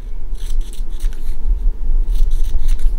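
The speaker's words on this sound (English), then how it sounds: "I'm going to cut 1 inch strips, okay?" Scissors cutting denim jean strips, a close, steady run of crunchy snips and rasping blade strokes over a loud low rumble, with no talking.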